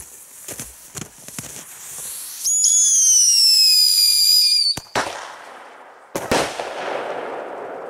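Fireworks rockets launch under a clear starry night sky: sharp cracks and pops, then a long rising whistle of about two seconds, followed by loud bangs and crackling bursts, close and loud.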